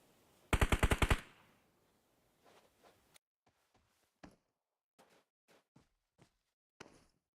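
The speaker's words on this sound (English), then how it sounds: "A couple of shots over here by Tabish." A rapid automatic burst of gunfire in the PUBG Mobile battle royale game opens the moment, followed by scattered lighter shots and thuds, some sharp and close, others fainter, with nobody speaking.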